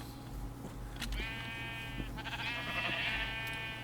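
Blocky sheep bleat in a Minecraft server game, two drawn-out, wavering bleats at moderate loudness over a steady low background hum, with no talking.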